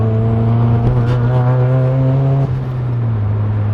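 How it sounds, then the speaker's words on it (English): A Nissan Silvia S15 turbocharged engine revs up loudly, then drops off with a brief fluttering turbo chatter as the revs fall. "And then you hear that turbo flutter noise."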